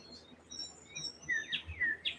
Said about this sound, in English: Can you guys still hear the birds?